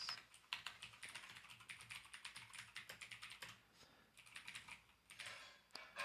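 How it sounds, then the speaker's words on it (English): Typing on a computer keyboard during a Langchain.rb Rails setup, quick bursts of close, crisp key clicks with brief pauses, fairly faint and without talk. "I'm just making this as real as possible with the typing, so no copy and paste."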